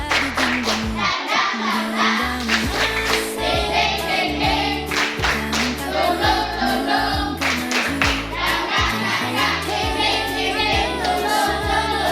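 A classroom of children does the Indonesian 'tepuk semangat' rhythmic clapping routine, a loud, steady patterned clapping that runs for several bars, with young voices chanting along.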